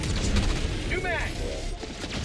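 Sustained gunfire from a light-penetration weapon in the video game Helldivers 2, a dense burst of shots mixed with explosive booms and chaotic battle noise, loud and continuous throughout.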